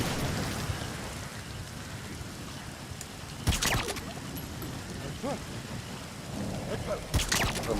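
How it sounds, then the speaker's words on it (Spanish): Steady rainfall in the video game Metal Gear Solid V, a constant hiss with two brief louder bursts, heard under low background game ambience. "The sound of rainfall should help to mask your footsteps."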